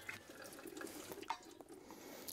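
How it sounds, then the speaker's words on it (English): Water is poured into a vintage vacuum coffee pot at a campsite, a faint, short splashing trickle with a few small drips, heard alone without speech. "Dump a little bit more water in there."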